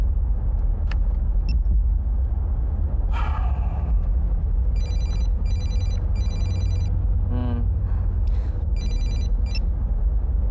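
A mobile phone in a TV drama scene rings in short repeated electronic bursts, clustered in a run and then again after a pause, over a constant low rumble.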